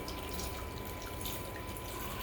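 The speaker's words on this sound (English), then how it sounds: "we're adding the water." Water squeezed from a packet into a pot of okra stew makes a steady, close trickling and splashing stream that continues alone throughout.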